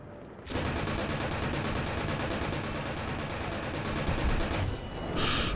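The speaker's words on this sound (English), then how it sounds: "they're big bombs" Big bombs explode in a combat video game as a dense, continuous barrage of heavy blasts that stays loud and unbroken, ending with a brief bright burst.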